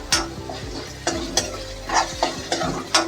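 Ginger-garlic paste frying in a pan of potato and moringa-pod curry over a raised flame, a steady sizzle broken by about seven sharp spoon scrapes and stirs against the pan, close and alone.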